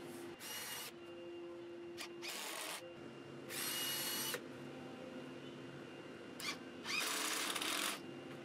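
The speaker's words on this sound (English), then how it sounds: "Repeat the process of drilling and screwing once you are sure the batten and legs are flush." A power drill drives screws through a wooden batten into the legs of a plywood skateboard launch ramp, with four loud whirring bursts of varying length separated by quieter pauses, close and alone with no talk.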